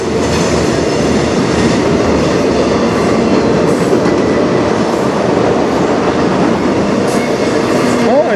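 A CN freight train rumbles past close by, a loud steady roar of wheels and rail noise that fills the whole stretch without letting up.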